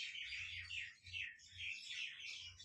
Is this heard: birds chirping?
yes